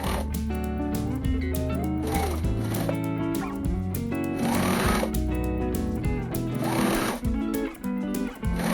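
A sewing machine runs steadily as it stitches a dress slit, with a fast continuous mechanical rattle that pauses briefly near the end.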